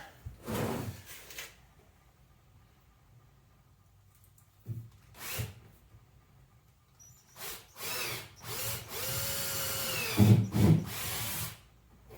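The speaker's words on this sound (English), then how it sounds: "So I'm going to drill the hole and feed this back in there." A power drill bores a hole through plastic in short bursts: a couple of brief spins, a pause, then a longer steady whine as the bit bites through, with light handling clatter between.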